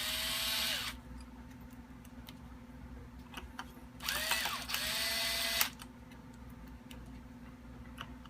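A powered screwdriver runs in two short bursts while turning screws back into a Vulcan .22 during hammer and spring work, each burst spinning up and winding down, with quiet handling noise between them.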